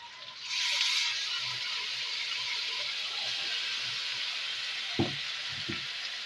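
A paste of ginger, garlic, onion, chili and cumin sizzles hard in hot oil, a loud, steady frying hiss that surges at first and then holds, with a couple of brief knocks near the end.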